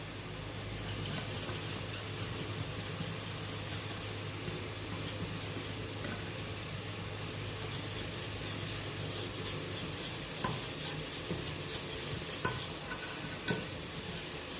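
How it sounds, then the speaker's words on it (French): A utensil stirs a butter mixture in a pan for lasagna, with steady scraping and light sizzling close up and a few sharper clinks toward the end. "on vient touiller comme ça."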